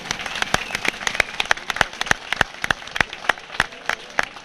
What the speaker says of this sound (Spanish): Un fuerte aplauso para él, por favor.